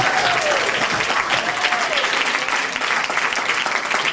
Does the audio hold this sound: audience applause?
yes